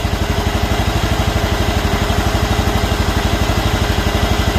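Kawasaki engine on a John Deere mower running just above idle, a close steady rapid chugging pulse with even rhythm throughout.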